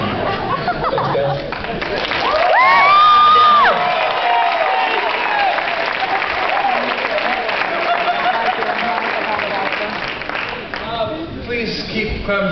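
Audience at a live Christian concert applauding and cheering, steady dense clapping swelling near the middle with whoops and chatter mixed in, then fading slightly toward the end.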